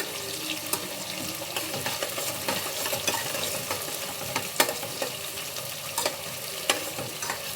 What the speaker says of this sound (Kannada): ಈರುಳ್ಳಿ ಸ್ವಲ್ಪ ಗೋಲ್ಡನ್ ಬ್ರೌನ್ ಬರೋವರೆಗೂ ಫ್ರೈ ಮಾಡ್ಕೊಳ್ಳಿ